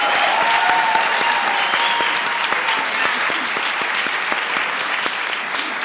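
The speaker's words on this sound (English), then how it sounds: "Let's give everyone a round of applause" Sustained audience applause at a community healing summit fills the room with dense, steady clapping from a sizable crowd, holding fairly even before easing slightly toward the end; a brief faint tone rides underneath early on.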